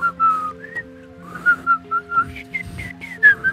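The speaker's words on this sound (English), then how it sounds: "Casual whistle." Whistling in the video game Stray: a casual melodic tune of short rising and falling notes, close and clear, over a soft sustained musical backdrop.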